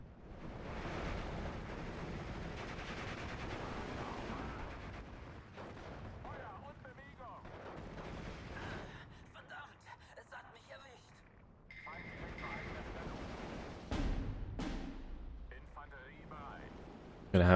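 Artillery in the Steel Division 2 WWII strategy game booms repeatedly at a distance in muffled, scattered blasts, with someone talking over much of the battle and a sharp louder hit near the end.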